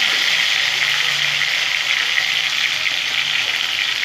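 Potato pieces frying in hot oil for a fish curry, a steady, even sizzle that holds at a constant level throughout with no talking.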